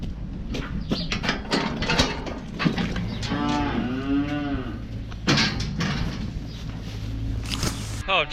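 Cattle at a farm moo loudly and nearby, one long drawn-out low call in the middle, amid clanking mechanical noises and someone talking while haylage bales are handled.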